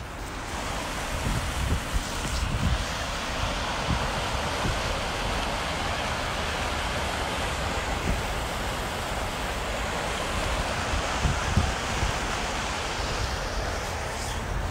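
Steady water surf washes in a continuous broadband rush, with occasional louder swells breaking through the constant wash and no voices present.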